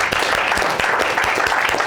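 An audience at a property investing Q&A event breaks into applause, a brief, dense, even patter of clapping filling the room.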